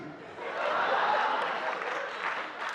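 Applause from an audience in a hall, a broad sustained wash of clapping that swells, holds steady for a few seconds and stays fairly close and even.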